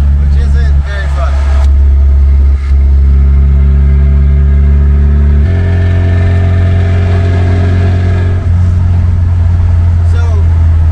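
A classic Toyota truck drives on the highway with a loud, close engine drone and low rumble that shifts as it changes gears, while a person talks over the road noise.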